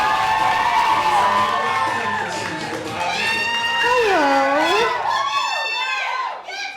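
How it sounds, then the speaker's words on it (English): A comedy club audience cheers and whoops as a comedian is welcomed to the stage. Loud crowd noise and shouts come first, then a voice talks over the fading cheers and high yelps. "get the round of applause going for Ashley Singleton"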